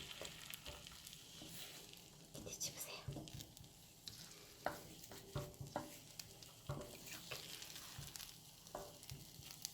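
Soft, steady sizzling of egg-coated pollock fillets frying in a pan, with faint crackles and occasional light scrapes, fairly quiet throughout.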